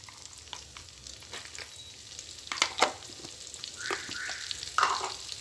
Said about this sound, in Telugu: కొంచెం వేగిన తర్వాత ఇందులో నేను ఫస్ట్ పుదీనా వేస్తున్నానండి.